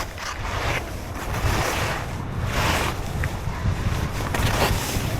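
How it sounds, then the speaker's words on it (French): Wind gusts across a ski slope at Val Thorens, roaring into the microphone in rough, surging waves of buffeting noise that rise and fall over a few seconds. "Oh, la rafale de vent."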